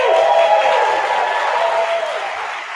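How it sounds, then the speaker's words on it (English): A rehearsal group applauds and cheers for their accompanist Terry, a dense burst of clapping with whoops filling the room at close range for a few seconds before easing slightly. "Everyone applaud for Terry Says."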